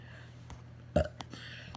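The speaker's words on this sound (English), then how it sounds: "Burp." A single short, fairly loud burp bursts out once midway, standing alone against a quiet room with a faint steady low hum.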